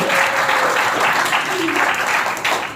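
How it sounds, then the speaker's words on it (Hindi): Loud, close applause from a school audience at a Teachers' Day celebration honouring a teacher, dense continuous clapping with a faint voice or tone mixed underneath. "जोरदार तालियां एक बार राजकुमार वर्मा जी."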